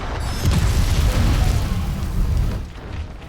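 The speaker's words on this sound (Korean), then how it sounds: "음폭탄" A sound bomb goes off in Monster Hunter: World, a loud sustained blast of booming, rumbling noise lasting a few seconds before tailing off.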